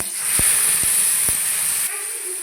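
Spice paste dropped into hot mustard oil in a pan for a Bengali pangas fish and cauliflower curry, giving a steady loud sizzling hiss with a few sharp pops near the start, then easing slightly.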